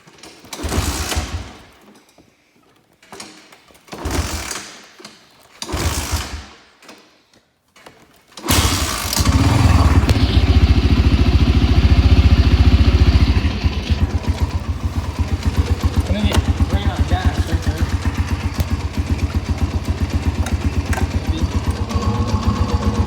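A 1987 Honda TRX 250X ATV engine, idle set slightly low, sputters through a few short revving bursts, then starts and settles into a steady, close, even idle with a softer, lower-pitched patter after a few seconds.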